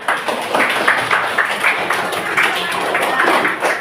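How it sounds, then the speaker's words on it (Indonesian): Seventh-grade students in a classroom clap their hands together in a loud, close burst of quick, slightly uneven claps that continues steadily from start to finish. "Tepuk tangan."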